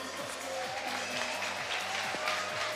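Faint, distant stadium applause at De Kuip greets new Feyenoord signings arriving by helicopter, a steady wash of clapping under a low rhythmic engine hum.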